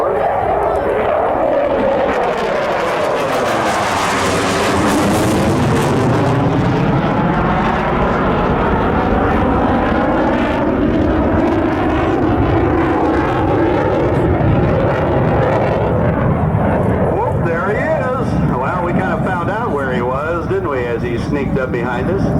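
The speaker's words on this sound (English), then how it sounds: "So this is the Vermont Air National Guard F-16C with its powerful Pratt & Whitney F-100 220 engine." Vermont Air National Guard F-16C fighter jet with a Pratt & Whitney F100-220 engine at a military air show, a loud continuous roar that sweeps in pitch as it passes close by, then a steady rumble.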